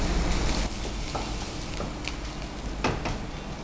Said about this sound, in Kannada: ಈರುಳ್ಳಿ ಸ್ವಲ್ಪ ಫ್ರೈ ಆಗಬೇಕಾಗ್ತದೆ.